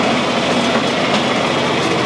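A John Deere 4020 tractor running while bouncing over bumps, a loud, steady engine roar at close range with no talk.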